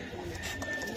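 Pigeons kept in a loft, high-flyer and Pakistani breeds among them: soft, quiet cooing and fluttering close by during a brief moment, with no talk.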